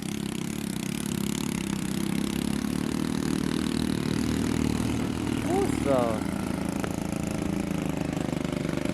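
A modified motorcycle loaded with three sacks runs its engine at a steady idle-like drone on a rough stream-side track, with a person briefly speaking nearby and a short whistling chirp midway.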